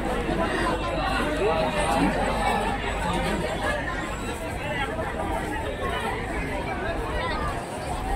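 A dense crowd packs a railway station in India, a steady wash of overlapping voices and chatter with continuous murmuring and no single speaker standing out.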